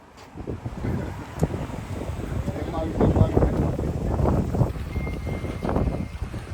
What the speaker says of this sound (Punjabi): ਠੰਡ ਬਹੁਤ ਹੋਈ ਪਈ ਅੱਜ ਹਵਾ ਚੱਲਦੀ ਪਈ ਆ